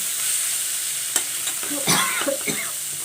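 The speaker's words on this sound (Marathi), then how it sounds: "कोथिंबीर टाकून मिक्स करून घ्यायचं परतून घेतला" A spoon stirs and scrapes through pea thecha with fresh coriander as it sautés in a hot pan. Brisk scraping strokes sit over a soft, continuous sizzle.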